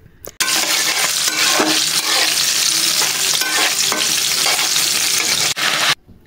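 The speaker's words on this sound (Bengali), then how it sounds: "কড়াইতে তেল দিয়ে আমি পেঁয়াজ ভাজতে দিয়ে দিয়েছি" Onions fry in oil in a wok with a loud, close, crackling sizzle while a spatula stirs in a busy scraping rhythm. It starts and stops abruptly, and nobody speaks.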